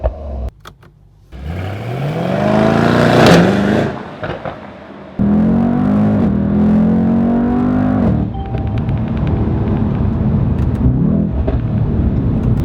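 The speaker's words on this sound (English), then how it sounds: "As long as the sound is there" A 2019/2020 Mercedes-AMG E63 S revs its exhaust, loud and close, in repeated rising pulls: a sharp climb, a brief drop, then a long sustained roar that settles into a steady rumble, with no talking.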